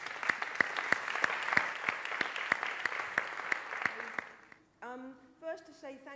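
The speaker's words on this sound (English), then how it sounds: "a big round of applause for Mandy" Audience applause for a speaker, Mandy, at an interactive documentary event in Barcelona: dense, steady clapping from a crowd lasting several seconds, then fading out as a voice begins.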